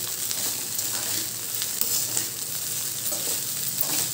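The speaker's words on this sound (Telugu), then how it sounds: "రైస్ వేసేసుకున్న తర్వాత బాగా హై ఫ్లేమ్ పెట్టేసుకొని స్పీడ్గా ఫాస్ట్గా కలిపేసుకోవాలండి" Vegetable fried rice stirred fast in a pan over a high flame, a steady loud sizzle with scraping stir strokes throughout, no voices.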